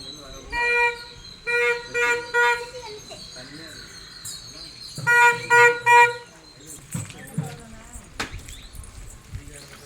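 A street ice cream cart's horn toots in short repeated bursts, loud and close, in two separate runs of honking, with people talking and birds calling around it.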